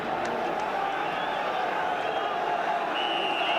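A big football stadium crowd at Chelsea v Manchester United keeps up a steady, dense roar throughout, with a few whistles and shouts rising out of it.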